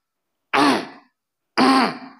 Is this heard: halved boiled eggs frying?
no